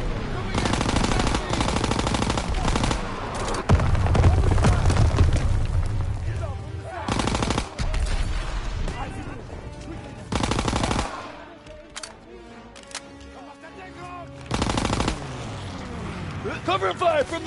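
Loud, dense bursts of automatic gunfire and heavy shots from the World War II video game Call of Duty: WWII, hammering almost throughout with brief lulls, while a voice speaks over the battle.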